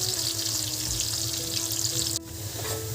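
One large onion fries in a pan for a Nellore-style fish curry, a steady hissing sizzle with a low hum underneath and a brief break near the end, close and even.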